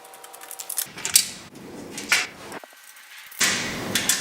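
Phillips screwdriver and 10mm wrench loosening the bolts on an ATV shipping crate, giving scattered close metallic scrapes, clicks and brief rattling knocks with short quiet gaps, and no talking.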